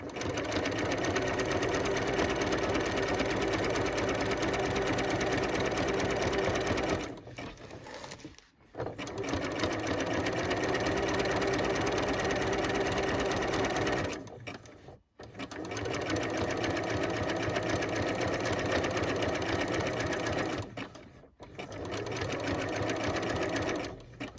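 Sewing machine stitching along the raw edge and across the seams of a denim jacket, running in three long steady bursts with brief pauses between them, close and loud.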